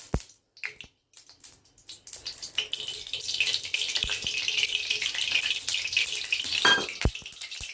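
Oil sizzling in a hot kadai wok while cooking tilapia fish curry, a few sharp crackles and then a steady, loud hissing fry that builds and holds close up, with no talking.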